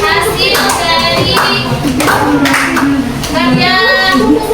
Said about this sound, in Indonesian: Beri tepuk tangan kepada kelompok 2 yang sudah mempresentasikan hasil dari